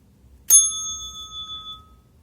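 A single bright metallic bell, struck once to summon servants to serve lunch and dinner, rings out clearly and decays over about a second and a half.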